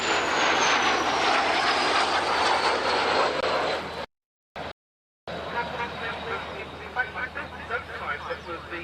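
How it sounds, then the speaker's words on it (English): Early Gloster Meteor jet aircraft with a Rover-built Whittle engine, a loud broad roar with a falling whine that cuts out briefly midway and then resumes with fluttering tones. "The first prototype was powered by the No.2 engine designed by the great Frank Whittle and built by Rover."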